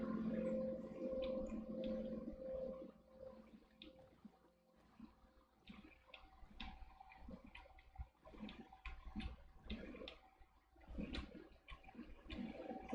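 Water flows along a waterway in Minecraft, making quiet, uneven gurgling and rushing splashes with a soft low rumble beneath. The sound is faint and varies in intensity from moment to moment.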